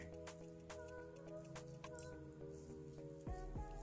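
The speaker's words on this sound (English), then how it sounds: "Now I'm going to squeeze the water out of it." Faint drips and trickles fall back into water as wet junk-mail paper pulp is squeezed out by hand, scattered irregular drops heard close in a quiet room.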